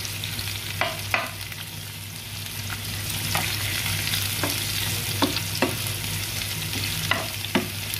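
Onion and garlic stirred in a frying pan while cooking squid curry masala, a steady sizzle with repeated scraping spoon strokes throughout, close and fairly loud, no talking.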